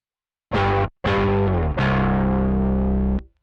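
Bass guitar played through an octave-up effects pedal: three sustained notes with a thick, distorted, doubled tone, each ringing loudly before cutting off, with no talking.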